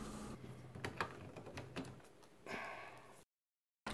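Ink cartridges being pushed into an Epson XP-4205 printer, a string of short plastic clicks and snaps close by, followed by a soft scraping sound and then a brief silence.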